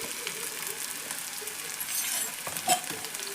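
Green chillies and curry leaves fry in hot oil with a steady, close sizzle and crackle, and a spoon stirs and clinks briefly against the pan.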